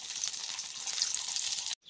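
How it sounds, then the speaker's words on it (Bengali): Pieces of masoor lentil cake (dhoka) fry in hot oil with a close, even sizzle that cuts off abruptly near the end. "বাদবাকি ডালের টুকরোগুলোকেও একইভাবে ভেজে নেব।"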